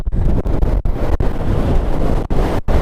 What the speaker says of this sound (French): Il y a un vent de ouf, je pense que vous l'entendez dans le micro